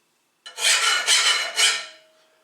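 A metal file drawn across a hard-facing weld bead in three quick rasping strokes, bright and close, skating over the hard surface rather than biting.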